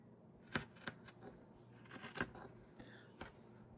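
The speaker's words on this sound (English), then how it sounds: "I'm just going to cut all of this excess off" A few sharp scissor snips cut excess tee shirt fabric near a seam, quiet and close, in short irregular bursts with pauses between; no speech.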